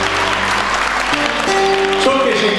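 A crowd applauds Mehmet Yüzel at a charity night for people with disabilities in Freistadt, Austria, with brief steady clapping under a speaking voice.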